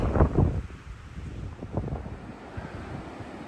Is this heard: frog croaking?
no